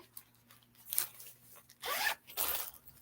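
Zipper on a fabric project bag pulled open in a few short rasping strokes, close and quiet with soft handling noises between the pulls.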